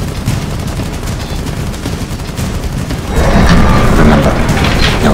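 Hip-fire gunshots aimed at a wall in Rainbow Six Siege, a dense rapid burst of gunfire that swells louder midway and keeps rattling close up, with no talking.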